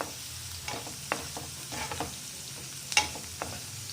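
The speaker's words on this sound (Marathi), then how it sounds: "त्याला थोडंसं आपण हाय करूया फ्लेम आणि परतून घेऊया थोडा कांदा" Onion sautéing on high flame, a steady sizzle with occasional spoon clicks and scrapes from stirring, close and without voices.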